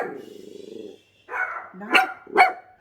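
Dogs barking in sharp, close bursts, with a low growling, rumbling stretch first, then a pause and several loud barks and yips near the end.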